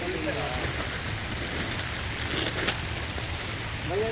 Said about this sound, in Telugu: వాన ఎక్కువ అవుతుంది.